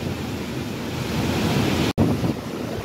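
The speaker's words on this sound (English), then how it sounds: "It's really windy up here." Strong wind buffeting the microphone on a misty hilltop near the end of an uphill hike, a constant loud roaring rush with one brief dropout near the two-second mark.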